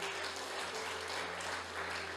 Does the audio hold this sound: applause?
yes